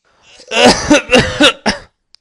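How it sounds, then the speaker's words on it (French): A few harsh, voiced coughs in quick succession, close and fairly loud, followed by a brief quiet. "C'est parti ici, j'ai toussé."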